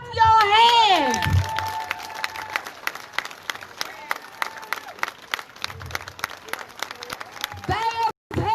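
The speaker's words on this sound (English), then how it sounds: "clap your hands" A crowd at an outdoor rally claps in a steady, rhythmic beat, with voices shouting and calling out over the clapping, loudest at the start.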